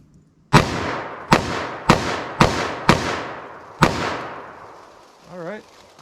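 Six sharp, loud revolver shots from .44 Magnum and .357 Magnum handguns ring out at uneven intervals, each with a short echoing tail, followed by a brief spoken remark at the end.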